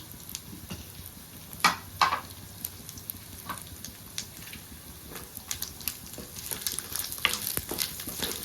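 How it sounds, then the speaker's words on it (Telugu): Grated fresh coconut fries in a pan while being stirred for a mango coconut chutney, giving a faint, steady sizzle with scattered scraping clicks and taps of the spoon, with no voices. "తర్వాత పచ్చి కొబ్బరి, ఇది వేగిన తర్వాత మనం టమాటా వేసుకుందాం."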